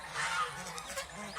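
Farm ducks honk and quack in a brief, moderately loud burst of overlapping calls with no voices.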